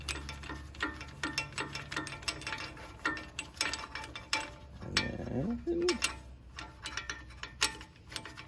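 A rear disc brake caliper piston compression tool being tightened by hand against the caliper, producing repeated close ratcheting clicks and mechanical creaks in an irregular rhythm.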